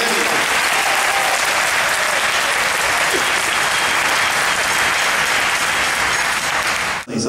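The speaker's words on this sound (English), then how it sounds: "A big round of applause for his accompaniment." An audience at a jazz performance applauds the piano accompanist, a steady dense wash of clapping sustained for several seconds, then cutting off abruptly at the end.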